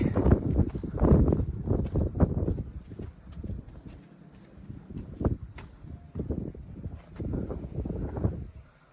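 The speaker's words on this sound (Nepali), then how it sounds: "कस्तो हावा आउँछ भुसुसुसुसुसु" Gusty wind buffets the microphone on a mountain trail to Tilicho Lake, rumbling in uneven loud bursts with quieter lulls between them.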